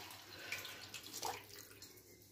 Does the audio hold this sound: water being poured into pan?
yes